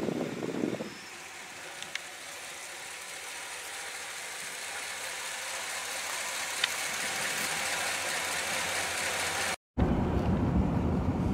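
A 1966 Chrysler Newport with a 383 engine idles as it warms up, giving a steady, moderately loud rumble with a brief cutout near the end before the rumble returns.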